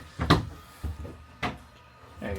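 Drawers in a travel trailer slide and bump shut in a sequence of about four short thuds and rattles, close and fairly loud, with brief pauses between each.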